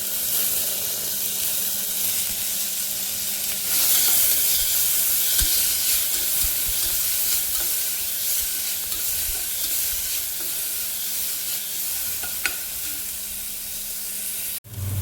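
Chopped tomatoes sizzle and hiss in hot oil with onion in a pan, the loud frying steady throughout, with occasional scrapes and clicks of a spoon stirring, ending in a sharp knock.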